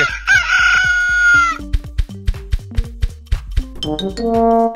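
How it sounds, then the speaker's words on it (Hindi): A rooster crows once, loud and close, its long call falling in pitch, followed by a quick run of sharp, clucking bursts and a final rising squawk, with no other sound around it. "तेरी बात सुन के तो मुर्गा चिल्ला रहा है"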